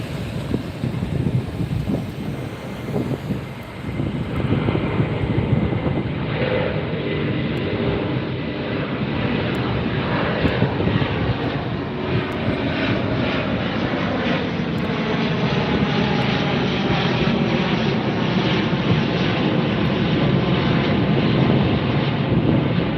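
Condor Airlines jet in beach beige livery taking off from LAX bound for Frankfurt, heard from the beach: a loud, sustained engine roar with broadband rumble that holds steady across the whole stretch.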